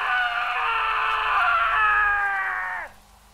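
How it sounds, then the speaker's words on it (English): A long, piercing scream used as a sound effect in a Bigfoot encounter story holds steady for nearly three seconds and then cuts off abruptly. "A scream."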